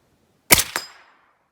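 Two sharp suppressed AK rifle shots in quick succession at a swinging steel target on an outdoor range, loud and close with a short ringing tail, no talking.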